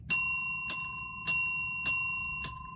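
A scale-model Nickel Plate Road Berkshire steam locomotive bell sound rings five times in slow, even strokes, each bright clang ringing out and fading before the next, close and clear.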